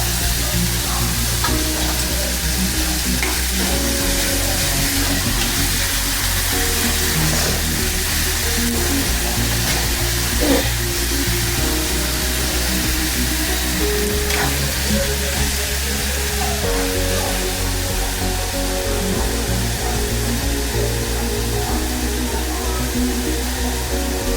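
Curry leaves and masala avalakki (beaten rice) fry in a pan with a steady, close sizzle and occasional stirring scrapes, continuous throughout with no talking.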